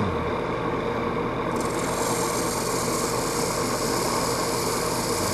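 A quarter-inch spindle gouge cuts wood on a spinning lathe, giving a loud, continuous whirring roar that gains a brighter hiss a little way in and holds steady to the end.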